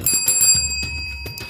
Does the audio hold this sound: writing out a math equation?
no